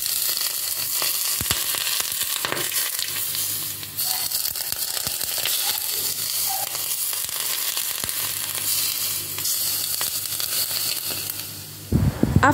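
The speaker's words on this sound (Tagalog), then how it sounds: "Kailangang mainit na mainit yung ating mantika bago natin ibuhos sa isda." Very hot cooking oil poured over steamed pompano fish gives a loud, continuous, crackling sizzle that holds steady for several seconds, dips briefly, then flares again near the end, with no talk.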